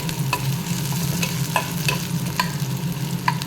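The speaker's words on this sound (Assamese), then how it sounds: "পিঁয়াজখিনি ধুনীয়াকৈ ভাজি ল'ম।" Continuous frying sizzle of chopped onions with a low hum, punctuated by regular light scraping taps of a spatula stirring in the pan.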